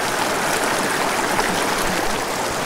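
A mountain creek where rainbow trout are being fly fished rushes steadily, a dense, even wash of flowing water that stays close and loud throughout with no voices.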